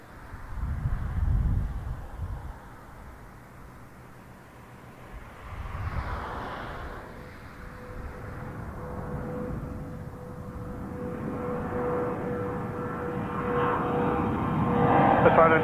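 A Canada Jetlines Airbus A320 jet at Toronto Pearson airport, a distant low engine roar and rumble that builds steadily over the span, with radio chatter and talk underneath.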